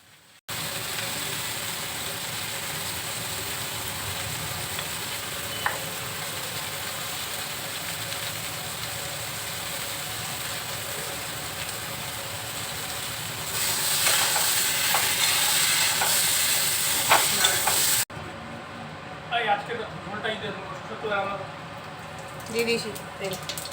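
Continuous crackling sizzle of potatoes and green banana frying in oil with salt and turmeric, close and steady, growing harsher for a few seconds before cutting to quieter stirring and scraping.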